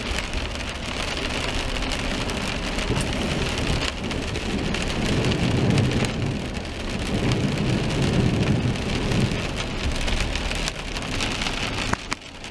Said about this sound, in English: Rain and traffic.